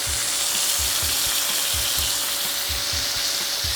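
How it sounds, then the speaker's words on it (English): Steak sizzling and frying in butter in a hot pan, a steady, loud, dense crackle with rhythmic spattering pulses throughout, no voices. "I'm going to go ahead and flip my steak. At this point, I'm gonna go ahead and put in my butter."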